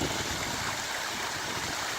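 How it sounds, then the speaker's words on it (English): A finished concrete waterfall on a 4000-gallon backyard saltwater pond sends water spilling and splashing steadily, a continuous broadband wash with no pauses and no voices. "And then we're on the waterfall."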